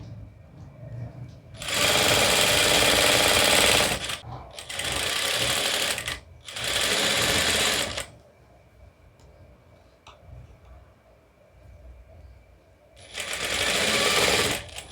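An electric sewing machine stitches the seam of a cloth bag in three loud, steady bursts of rapid whirring, separated by quieter pauses with faint handling noise.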